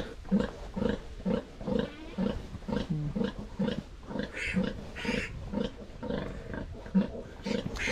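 Pigs grunt and squeal repeatedly in a busy pen, a steady stream of overlapping oinks and snorts close to the microphone.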